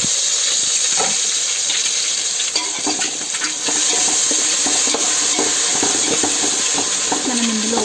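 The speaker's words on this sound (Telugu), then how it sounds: "ఒక 2 మినిట్స్ ఇలాగే ఫ్రై అవ్వనివ్వండి టమాటాలు." Chopped tomatoes fry in a pan for an egg biryani, giving a steady close sizzle with scattered clinks and stirring scrapes throughout, no talking.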